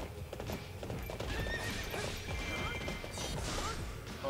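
Horse hooves clip-clop at a gallop with repeated neighs and whinnies in the Hyrule Warriors video game, set against busy battle clatter and occasional crashes, with a brief voice under the din.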